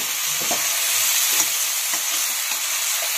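Capsicum and potato curry sizzles and fries steadily in a pan, with a few soft stirring scrapes over the constant frying hiss, close and fairly loud with no talking.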